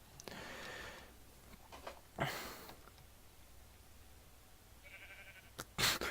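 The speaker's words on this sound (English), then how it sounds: "I just realized just now that there's sheep." A few short, distant sheep bleats in Minecraft come and go over a quiet background, with sniffing and shuffling sounds between them.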